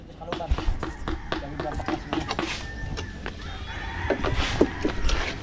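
Chickens cluck in short repeated bursts at close range, with a rooster crowing partway through, while people talk over the birds the whole time.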